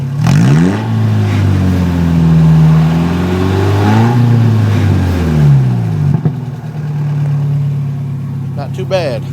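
A car engine revs up and down several times through a new exhaust with a deep, throaty rumble, close and loud, then settles to a steady idle.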